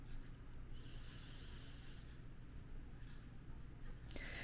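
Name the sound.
writing on a board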